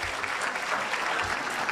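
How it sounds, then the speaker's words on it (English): A crowd at a Kwanzaa celebration applauds steadily, a dense wash of clapping that holds at an even level throughout. "Ashe, let's give her a round of applause."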